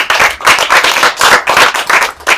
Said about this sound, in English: Can we get a round of applause for Sadhguru, everybody?